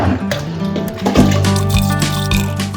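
Water splashing and trickling while a motorcycle helmet and its visor are rinsed by hand from a small bucket, a close, steady liquid pour with drips over a faint musical background.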